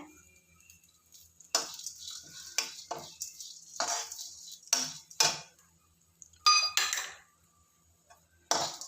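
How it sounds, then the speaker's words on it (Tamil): Spurts of crackling and spattering as curry leaves drop into hot oil, in irregular bursts with faint clinks of utensils. No one speaks. "இந்த கருவேப்பிலை இதை போட்டுடுறேன்."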